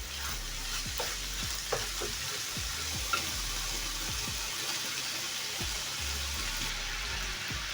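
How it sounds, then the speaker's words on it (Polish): Minced meat and green beans fry in a pan over medium heat, a constant close sizzle broken by scraping stirs at irregular intervals. "No i sobie powoli smażymy na średnim ogniu do momentu aż mięso nie będzie surowe."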